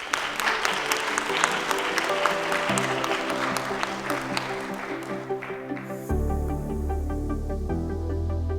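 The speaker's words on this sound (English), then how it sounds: "so let's give him a nice welcome." Applause from the audience at a TEDx Youth event at Lake Olmstead, steady clapping for about six seconds, then music with a deep beat enters and takes over.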